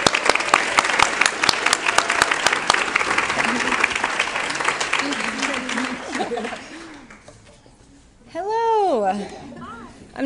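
Audience applause at a college transfer celebration welcoming the final speaker: dense, steady clapping for about six seconds that fades out, followed by a speaking voice.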